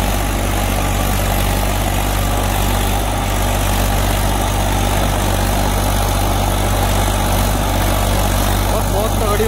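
A tractor driving in second gear, its engine running as a steady low, loud drone with a constant mechanical hum throughout, with people talking over it.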